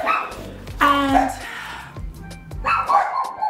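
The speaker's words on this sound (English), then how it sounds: "Come here, don't be barking, it's just daddy." A dog barks indoors in several close, loud yaps with whiny tones, while someone talks over and between the barks.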